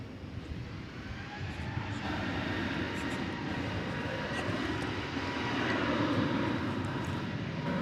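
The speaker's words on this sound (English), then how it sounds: "We have right there an Airbus A321neo. It's American Flight 1639." An Airbus A321neo jet, American Flight 1639, at Dallas Fort Worth airport gives a loud, steady broadband roar that swells slightly toward the end, with no talking.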